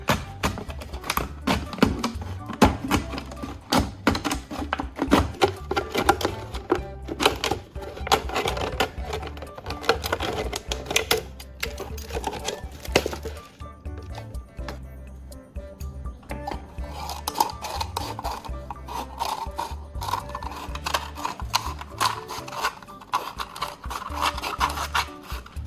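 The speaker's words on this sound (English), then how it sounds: "I'll take a plastic bottle and carefully cut off the bottom section." A plastic bottle being cut to remove its bottom section: steady rasping, scraping cuts in rapid irregular strokes, close and moderately loud, with a short pause midway before the cutting resumes.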